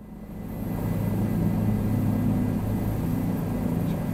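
Steady engine and rotor drone of a Bell 407 helicopter in Microsoft Flight Simulator, a continuous low rumble that swells slightly and holds level throughout.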